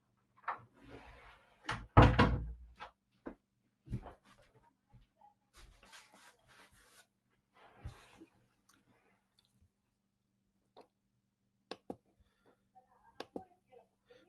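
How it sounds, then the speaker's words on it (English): A door is pulled shut indoors in a quiet room, giving a sharp close thud with a brief rattle, followed by scattered faint knocks and shuffles. "Let me close the door"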